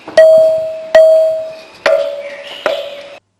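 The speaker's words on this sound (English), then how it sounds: "Now, here's the sound of a temple bell." Four ringing strikes on a stone pillar, each a clear bell-like tone like a temple bell that rings on and slowly decays, spaced about a second apart, close and alone.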